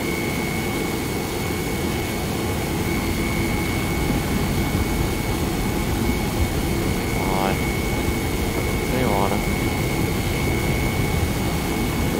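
The Argo MOLE mining ship in a video game runs at full power with a loud, constant engine roar and a steady high whine layered on top. The roar is unbroken for the whole stretch, and a couple of faint fluttering warbles rise briefly.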